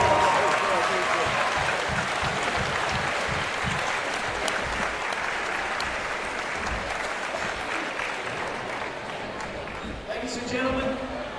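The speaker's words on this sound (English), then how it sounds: "let's give this 1962 football team a big round of applause." Gym crowd at a high school basketball game applauds an honored 1962 football team, a long sustained roar of clapping that slowly tapers near the end as a voice begins to speak.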